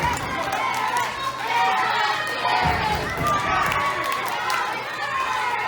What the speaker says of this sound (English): The crowd is trying to get behind Ray to get him up.